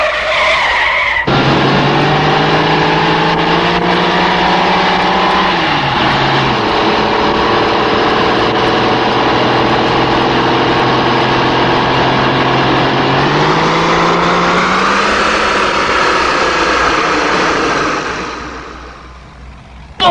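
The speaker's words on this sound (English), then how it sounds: "listen to that engine purr. That's 450 horses." A 450-horsepower car engine roars loudly and steadily, its pitch climbing and shifting as it revs, with tyres squealing, before fading out near the end.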